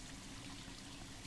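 A container filling with water in the survival game DayZ, a faint, steady rushing pour with no breaks across the short stretch.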